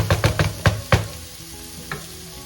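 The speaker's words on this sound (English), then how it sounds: "Saute." Ingredients for Filipino chicken noodle soup sautéing in a pan, with a quick run of five loud stirring scrapes and sizzles up close, then a lull and one lighter scrape near the end; no one speaks.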